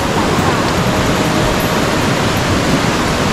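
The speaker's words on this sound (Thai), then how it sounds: "ลำธาร" A mountain stream flows near a hillside cafe in northern Thailand, a steady broad rush of water, close and constant, with a faint voice now and then.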